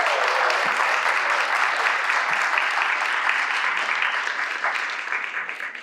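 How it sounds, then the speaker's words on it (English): Sustained applause from an audience at a New York panel event on astrology wellness businesses, a dense even clatter of clapping that holds steady for several seconds before gradually thinning and fading toward the end. "Please give them a round of applause"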